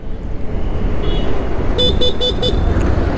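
A short series of four quick electronic horn beeps from a 2025 Vida V2 Plus electric scooter over steady outdoor background noise, fairly close and moderately loud.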